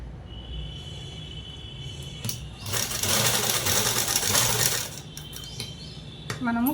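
A sewing machine stitches a long frock dress made from a saree, running in a loud burst of about two seconds after quieter handling and clicks, with a brief rattle near the end.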